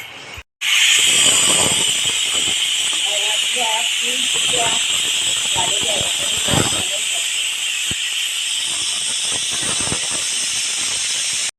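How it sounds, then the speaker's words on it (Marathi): Pressure cooker cooking khichdi lets off a loud, sustained steam hiss after an abrupt start, blowing continuously for about eleven seconds while someone talks over it. "आता मी कुकरची शिटी हे झाकण लावते आणि तीन शिट्या काढून घेते"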